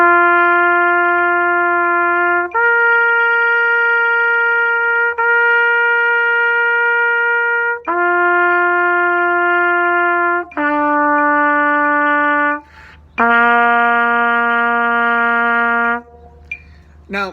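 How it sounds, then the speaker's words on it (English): A group of wind instruments plays a slow series of held notes that step up and down, each tone sustained for a couple of seconds. "And the arpeggio sounds like this."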